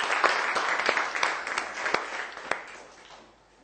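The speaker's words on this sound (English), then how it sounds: "Give you a big clap." A small classroom group claps for a student in a secondary maths lesson, a brief round of uneven, close hand claps with distinct individual slaps that taper off within a few seconds.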